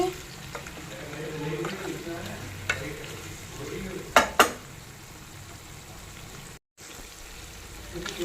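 Mutton brain fries in a pan with oil, a steady close sizzle with stirring scrapes and a couple of sharp utensil knocks against the pan midway. It continues with a brief dropout near the end.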